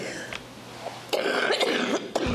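A woman coughs in several short, harsh bursts, close and fairly loud, with brief pauses between them.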